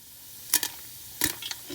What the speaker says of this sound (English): Okay, so our popcorn is clearly popping.